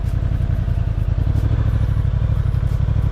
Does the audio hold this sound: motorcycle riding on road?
yes